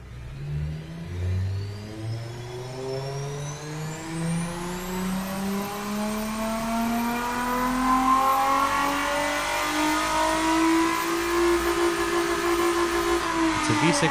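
A V6 engine making 213 horsepower revs steadily upward in the car-building game Automation, its pitch climbing smoothly over several seconds before easing off, loud and continuous with no talk over it.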